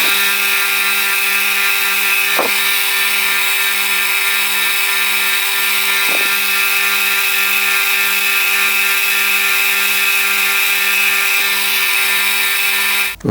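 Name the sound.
bench grinder tidying a metal edge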